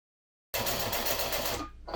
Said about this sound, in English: you just want to slow down before the end and kind of manually crank it and then back stitch